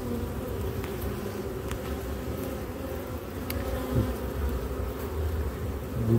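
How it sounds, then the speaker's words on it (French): Honey bees clustered in a ball at the bottom of a hive drone in a dense, steady buzz, close and continuous with no talk. "On a une boule d'abeilles."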